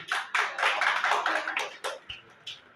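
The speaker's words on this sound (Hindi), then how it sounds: "एक बार उनके लिए जोरदार तालियां" A classroom audience claps for a guest speaker, a short burst of dense applause that thins into a few scattered claps and then fades.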